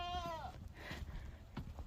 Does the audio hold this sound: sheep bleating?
yes